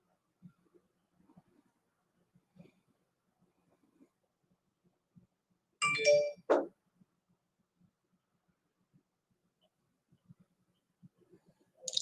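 An Instagram message notification chimes on a phone as a single short bright tone burst amid near silence, with faint small clicks and handling noises before and after.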